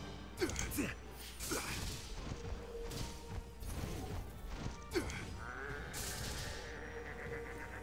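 A goat in the Dragon's Dogma game lets out a few short wavering bleats among whooshing magic swishes and crashing impacts, with a steady droning bed under the whole fight.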